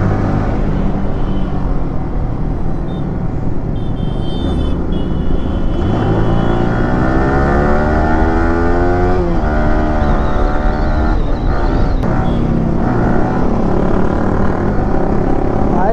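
A motorcycle fitted with a dB killer roars under hard, aggressive riding in traffic, a loud continuous exhaust note rising and falling with throttle and wind rush, shifts audible mid-ride.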